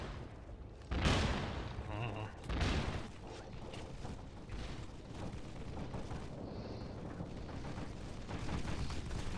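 Turrets firing in the video game AFF, heard as bursts of rapid gunfire and booming impacts, the two loudest bursts coming early and followed by denser, quieter rattling fire, with a player's voice talking over it now and then.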